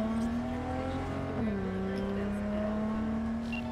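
A car driven in the video game Cyberpunk 2077 hums along with a steady engine drone that dips briefly as it shifts, then settles back, moderately loud with light background game sound.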